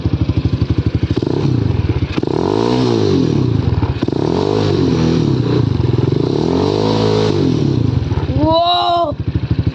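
Loud, close ATV engine idling and revving as it starts to drive, with throaty rising and falling pitch sweeps, clatter and thumps, and an excited voice briefly over it near the end.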